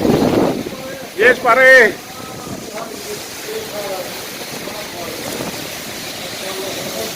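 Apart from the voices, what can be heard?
strong wind in a sandstorm and rain in the UAE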